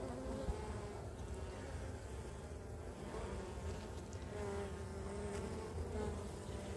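Honey bees hum steadily throughout a beehive inspection, a dense continuous buzz of many insects close by, with no talk heard.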